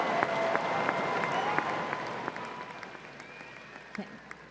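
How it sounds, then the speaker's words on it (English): A commencement audience applauds graduates at a spring ceremony, a dense wash of many hands clapping together that slowly fades over a few seconds. "Please join me in applauding these graduates for their academic achievements."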